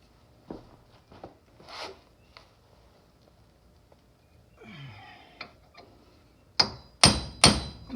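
Scattered light taps and scrapes, then three sharp, loud metallic hammer strikes close together near the end, knocking an axle through a wheel bearing on a 2012 Toyota RAV4.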